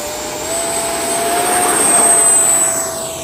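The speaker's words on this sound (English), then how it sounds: "80 millimeter, in my opinion, one of the best sounding size EDFs there is" An 80 mm electric ducted fan RC jet takes off with a loud, steady high-pitched whine and rushing roar that swells and then eases slightly as it climbs away.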